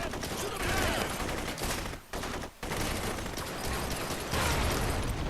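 Rapid gunfire and explosions from the shooter video game Blue Estate, dense bursts of shots with two brief gaps, loud and continuous.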